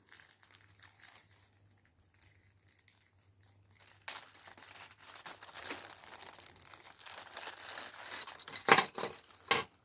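Plastic packaging for an action camera handlebar mount crinkles and tears, quiet at first, then louder rustling and crumpling with a few sharp crackles near the end.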